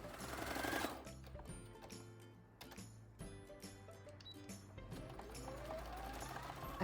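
Sewing machine stitching all around two square fabric pocket pieces placed right sides together for an Easter bunny comfort toy, a close, continuous mechanical whir with brief pauses and rhythmic ticking.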